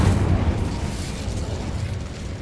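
A fire spell cast in Hogwarts Legacy, heard as a steady loud roaring whoosh with a low rumble that holds for the whole moment without any talk.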